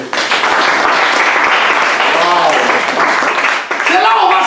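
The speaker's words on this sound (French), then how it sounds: "Acclamons la parole de Dieu." A church congregation breaks into loud, sustained applause and cheering that fills the room, with voices rising through the clapping.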